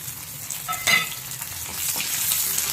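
Shallot, green chili and curry leaves sauté in a pan with a steady broadband sizzle and light stirring scrapes, one louder clatter near the start, continuous and close with no voices.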